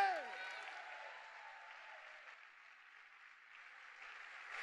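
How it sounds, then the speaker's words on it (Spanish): Sustained applause fills a Sunday church service, a dense steady clapping from the congregation that holds at an even level throughout, with a brief vocal tone at the very start. "Vamos, vamos, vamos, ese aplauso fuerte."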